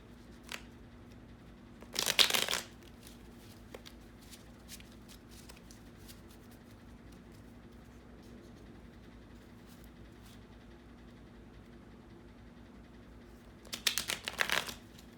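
A deck of cards being shuffled in two short, crisp bursts roughly twelve seconds apart, with a quiet room hum in between.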